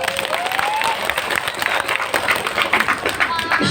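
Applause from a gathered audience at a Javanese-language Islamic sermon, dense steady clapping throughout with voices and a few shouts rising over it.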